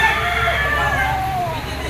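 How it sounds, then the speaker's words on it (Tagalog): A large green-legged gamecock at an auction market sounds off with a drawn-out, wavering cry, loud and close, over steady background noise. "Ito, ang laking manok."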